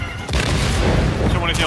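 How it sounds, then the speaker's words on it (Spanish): An air strike explosion in the video game Second Extinction, a loud, dense booming blast with rumbling debris filling the short moment, with a voice faintly underneath. "Ah, ataque aéreo ahí, ya está."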